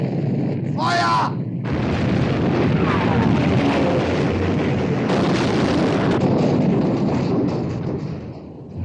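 Heavy naval guns of a warship firing in the 1960 war film Sink the Bismarck, a loud sustained booming roar with rumbling battle noise after a shouted command.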